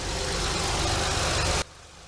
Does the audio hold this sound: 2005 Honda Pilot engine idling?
yes